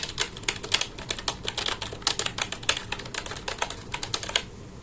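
Rapid typing on a keyboard with round typewriter-style keycaps, a dense run of crisp, clacky keystrokes in uneven bursts, close and clear with no voices.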